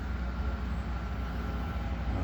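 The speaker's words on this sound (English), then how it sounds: "Oh, this is a goods train." A goods train passes a station platform near Lamphun, Thailand, producing a steady, loud low rumble and rolling roar with no break and no talking.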